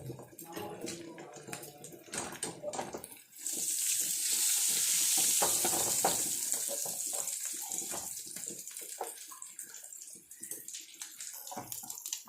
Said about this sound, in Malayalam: നമ്മുടെ മീൻ ഏകദേശം ഫ്രൈ ആയിക്കൊണ്ടിരിക്കുന്നുണ്ട്